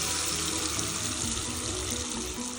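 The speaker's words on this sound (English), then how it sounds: "Time to purge the water." Water runs steadily from a shower line being purged after the main supply is shut off, a constant near hiss and splash that holds without pause.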